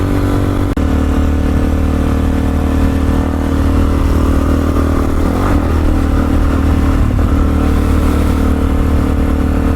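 A Suzuki DRZ-400SM motorcycle engine runs steadily up close, a loud continuous mechanical drone with a slight rise in intensity midway and no voices.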